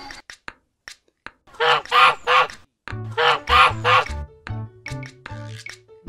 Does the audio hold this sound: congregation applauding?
no